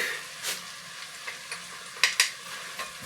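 Bratwurst and cheese fried rice sizzles in a hot pan as a utensil stirs and breaks it up, a quiet steady fry punctuated by several sharp scraping clicks against the pan.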